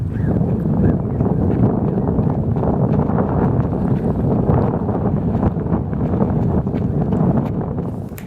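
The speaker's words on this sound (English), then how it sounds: "It was a very windy day, so it was kind of noisy" Heavy wind buffets the microphone beside a lake with swans on a blustery day, a loud, continuous low rumble with gusting surges that fills the whole stretch and eases slightly near the end.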